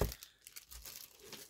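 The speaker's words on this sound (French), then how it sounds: "On va couper le papier." Paper being cut with scissors, a few crisp, close snipping and crinkling bursts separated by short quiet gaps.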